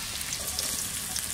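Potato pieces fry in a pan, a brief, fairly quiet, even hiss of sizzling oil with no talk.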